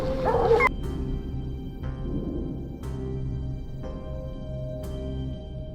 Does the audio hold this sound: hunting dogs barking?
yes